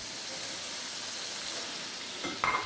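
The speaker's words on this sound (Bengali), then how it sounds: "নারকেল বাটা দিয়ে আমি একটু কষাই দেবো।" Coconut paste fries with spices in a pan for a prawn dish, giving a steady, close sizzling hiss throughout, with a brief clatter of stirring near the end.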